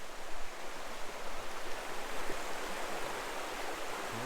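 Cold creek water rushes steadily across a hiking trail crossing at Seven Mile Creek County Park in Minnesota, a close, continuous broadband flow with no talking.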